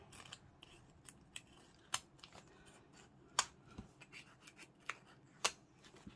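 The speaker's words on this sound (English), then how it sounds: "So I'm just going to cut the strings." Scissors snip through the binding strings of a book's signatures: a series of quiet, sharp cuts at irregular intervals with faint rustling between them and no talking.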